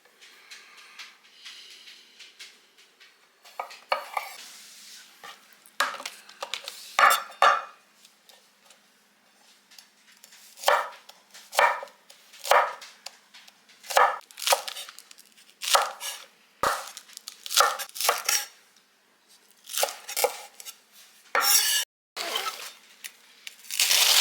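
Grape tomatoes, onion, green onion and lettuce chopped with a knife on a board, a long run of sharp, close knocks arriving in irregular bursts and quick clusters separated by short pauses.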